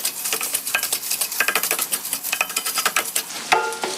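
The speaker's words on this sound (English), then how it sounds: "we're going to add a good amount of olive oil here and stir everything around and put that lid back on" Tofu sizzles in olive oil in a pot while a utensil stirs it in quick, rhythmic scraping strokes against the metal, close and clear, with a sharper clank near the end.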